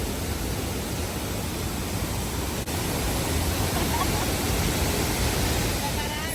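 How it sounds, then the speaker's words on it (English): Rushing water from the Cradle Moon waterfall, a steady broadband roar with no breaks, loud and continuous as if heard from close by. "So this is the famous Cradle Moon waterfall"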